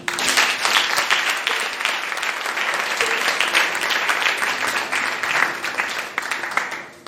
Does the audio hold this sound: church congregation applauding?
yes